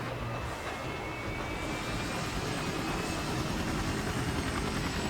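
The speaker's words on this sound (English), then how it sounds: "I'm in the chopper," A helicopter roars steadily in flight in a video game, a loud continuous rotor and engine drone with no one speaking.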